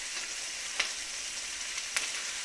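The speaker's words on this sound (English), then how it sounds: "he sure is frying a lot of bacon" Bacon sizzling steadily in a frying pan, a dense continuous crackle with a couple of sharper pops standing out, heard close and alone with no talking.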